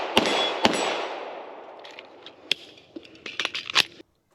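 Canik TP9-SFX pistol rounds ring off steel targets: two sharp clangs close together open the stretch, followed by several lighter metallic pings and hits trailing off.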